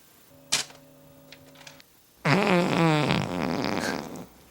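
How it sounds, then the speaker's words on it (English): Comedic fart sound effects from a novelty fart sounds compilation CD: a brief tonal burst, then a loud, long, wavering raspy blast that runs about two seconds, alone with no talk. "It's fart sounds. New from Time Life, the best of fart sounds, Volume 1."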